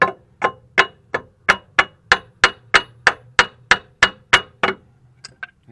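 A front control-arm bushing on a 2010 Toyota Matrix being hammered into place, about fourteen sharp metallic blows in an even steady rhythm, close and loud, followed by two lighter taps.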